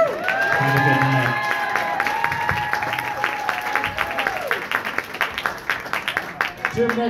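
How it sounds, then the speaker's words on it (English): Audience at an open mic night in a club clapping and cheering, a burst of applause and whoops that thins into scattered claps, with voices and a sung or shouted tone riding over it near the start. "that clapping was an early birthday present, so you're welcome"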